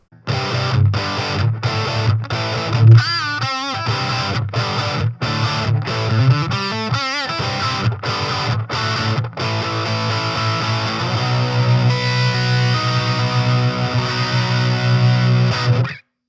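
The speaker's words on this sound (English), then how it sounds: "So now let's do a more gainy tone. I'm going to use one of the British amps" Heavily distorted electric guitar through a British-style amp model on an Orange Crush 12 or Fender Champion 20 practice amp, bridge pickup, with thick high-gain crunch, playing chopped rhythmic chords before ringing out into sustained notes.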